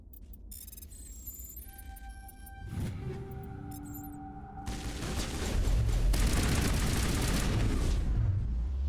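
Carbine gunfire crackles in Mass Effect Legendary Edition combat, starting faint under tonal game sounds and building into dense, continuous loud bursts of shots with heavy low rumble toward the end.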